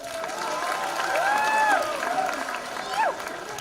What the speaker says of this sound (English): Give us a round of applause, guys.